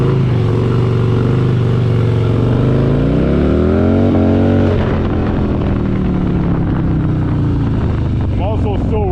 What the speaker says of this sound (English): you're gonna pop the clutch